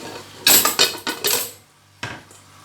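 A cooking pot is shifted on a stovetop while making chicken soup, giving a quick run of close metallic clanks and scrapes, then a single sharper knock after a brief pause.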